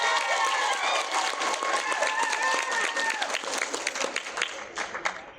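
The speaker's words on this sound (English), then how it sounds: "Everybody give Haley another round of applause." A cosplay talent show audience claps and cheers in a loud, dense burst, with whoops and shouts over the applause before it thins out and fades near the end.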